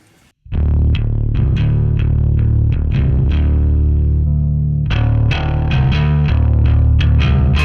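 An electric guitar through a clean boost pedal plays loud, biting chords and picked notes with a bright, slightly driven tone, strummed in rhythmic bursts.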